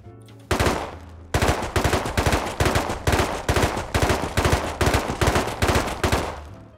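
Rapid bursts of video game gunfire as a full magazine is emptied in a firefight, a long run of loud, evenly spaced shots close up with no talking.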